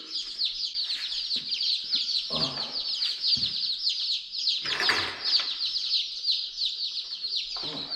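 Newly arrived baby chicks chirp continuously in a dense, high-pitched chorus, close and lively, with occasional flaps and soft handling bumps as they are moved into a brooder.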